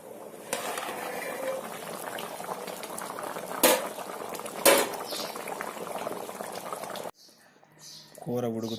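Fish curry with tamarind pulp bubbling in a pot, a soft, continuous simmer with two sharp utensil clinks midway, then a quieter stretch as a voice starts speaking at the end.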